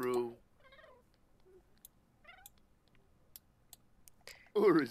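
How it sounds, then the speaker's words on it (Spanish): Short, soft cat meows from The Sims video game come through faintly in a mostly quiet game scene, with a louder voice bursting in at the start and end. "Estoy escuchando un gato, pero no veo el gato."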